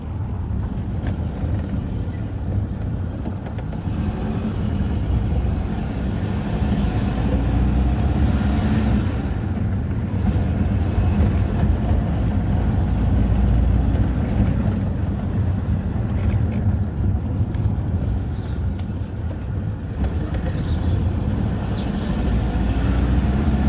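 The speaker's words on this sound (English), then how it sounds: "I am driving this car" A 1989 BMW E30 316 driving, heard from inside as a steady, loud low engine and road drone that runs without a break, with no talk over it.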